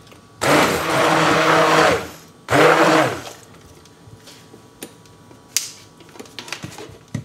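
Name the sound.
blender pureeing chestnut soup into a velouté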